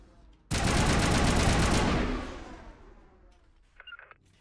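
Gunfire in the video game Mass Effect Legendary Edition starts abruptly as one loud, sustained burst of rapid automatic fire lasting about a second and a half. It then fades into a lingering rumble, with faint clicks and a brief voice-like sound afterward.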